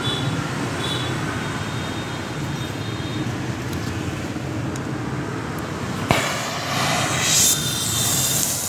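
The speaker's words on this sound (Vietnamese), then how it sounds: "Lửa thật êm này" A gas torch flame brazes brass with silver rod, a steady close roaring hiss that runs the whole time without a break, with a slight shift in tone partway through.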